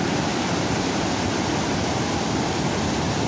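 Fast-flowing clear water of the Kalisindh river upstream at Harishchandra Sagar Dam rushes in a dense, continuous, loud roar with no pauses.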